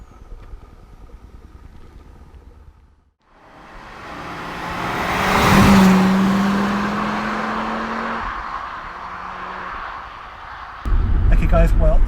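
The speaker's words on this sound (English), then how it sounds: "let's go and drive this Audi RS2" A Porsche-tuned Audi RS2 drives by, its engine swelling from a quiet idle into a loud, rising roar that peaks midway and then fades, followed by a burst of nearby talking at the end.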